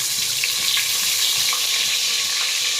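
Garlic paste frying in well-heated oil in a pan while making chicken curry, a loud steady broadband sizzle that holds constant throughout with no talking.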